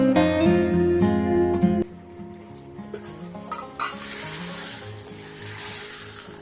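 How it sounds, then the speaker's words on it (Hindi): Ghee with cumin seeds and asafoetida sizzles as a tempering in a pan, a close crackling fry with light stirring clinks that follows a brief stretch of background music. "थोड़ा सा घी डाला है, जीरा डाला है और ज़रा सी हींग डाल के लगा दे रही हूँ छौंक।"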